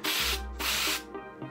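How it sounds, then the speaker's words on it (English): Atmosphere aerosol haze spray misted over a miniature sand-filled set, heard as two loud, close hissing bursts followed by a shorter third spurt, with no voices. "I use atmosphere aerosol for a lot of my haze effects"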